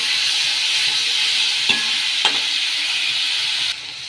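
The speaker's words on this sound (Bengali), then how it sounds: "এগুলো ভাজা ভাজা হয়ে গেছে" Vegetables for chilli mushroom fry in a pan with a steady, close hissing sizzle, broken by two sharp spatula clacks, and the sizzle drops quieter near the end.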